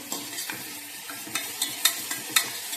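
Slit green chilies sautéing in a pan with other vegetables for a rice and dal dish, a steady soft sizzle broken by several sharp stirring scrapes and clicks, close and clear with no talking.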